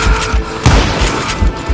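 A double-barrel shotgun fires in the Western shooter Call of Juarez: Gunslinger, heavy booming blasts repeating over a dense, loud battle din with no voices.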